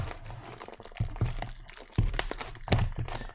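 A small trading card game box for a 24 TV show first edition is opened by hand, with close crinkling, crunching and cracking of packaging in several sharp bursts between quieter rustling.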